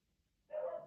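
Dogs bark indoors, a single short bark breaking in after a quiet moment.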